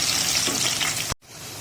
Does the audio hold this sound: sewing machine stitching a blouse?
no